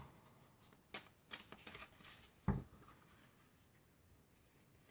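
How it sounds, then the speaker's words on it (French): Tarot cards are shuffled and drawn close up, a few quick papery riffles and flicks followed by a single sharper snap of a card, soft and intimate with no talking. "Alors, on va tirer quelques cartes."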